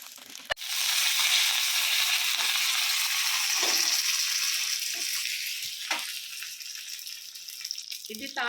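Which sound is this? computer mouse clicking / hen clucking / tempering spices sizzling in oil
tempering spices sizzling in oil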